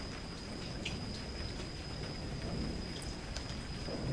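Heavy rain falls steadily at night during a thunderstorm, a dense constant hiss of drops with a low rumbling underneath, continuous and even throughout, with no voices.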